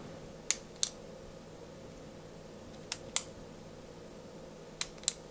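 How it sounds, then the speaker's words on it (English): A retractable eraser on top of a pen clicked out and back in, giving three pairs of sharp, close, quiet clicks spaced evenly apart with a faint room hum underneath and no talking. "This clicks it in and out, you see?"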